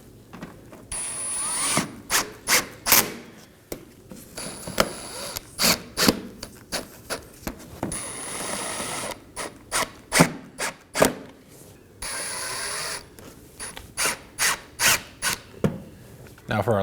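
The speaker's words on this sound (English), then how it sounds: "Now let's reinstall our 5 Phillips head screws along the bottom of the fender liner." Phillips head screws are driven into the fender liner of a 2015-2023 Nissan Maxima with a power driver, heard as short, loud whirring bursts in rapid series, separated by brief pauses, close by.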